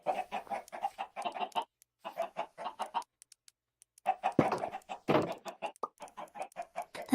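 Backyard chickens cluck in quick, busy bursts, several birds close by with brief pauses between clusters of calls and no talking.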